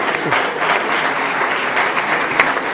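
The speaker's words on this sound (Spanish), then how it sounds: "podéis aplaudir" Audience at a Spanish-language panel on Europe as an engine of growth and employment breaks into dense, continuous applause, loud and sustained throughout.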